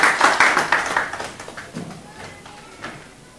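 An audience at a motivational talk claps, a brief, fairly loud burst of applause that quickly thins out and fades within a few seconds.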